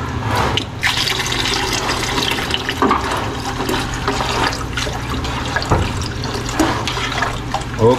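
Hot water pours steadily into a pot of ginisang monggo with bagnet, a continuous close splashing and gurgling fill that runs unbroken for several seconds with no talk over it.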